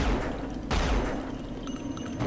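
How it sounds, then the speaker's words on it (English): Gunfire in the video game Unreal, a rapid burst of loud shots with a sharp blast partway through, close and continuous over a short stretch. "I'm shooting the other one's corpse."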